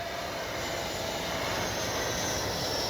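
An FMS Avanti V3 70mm electric ducted-fan RC model jet with afterburner lights roars past in a continuous broadband rush, a loud steady whoosh with a high whine on top.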